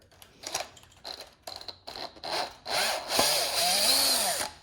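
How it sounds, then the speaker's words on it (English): A power drill whirs in short bursts, then runs longer with rising and falling pitch as it bites into a stiff screw on an Asus PG27UQ monitor, close and fairly loud. "that one's a little stiff, so I'm going to use a drill"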